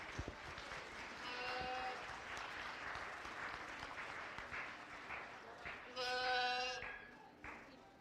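Faint audience applause at a county goat show, with goats bleating clearly over the clapping, loudest near the end.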